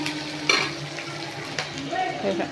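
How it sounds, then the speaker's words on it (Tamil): Dried red chillies being sautéed in a pan for beetroot chutney, with a soft, steady sizzle and a few stirring scrapes under light background noise. "வர வரமிளகா போட்டுருக்காங்க நல்லா வதக்கணும்"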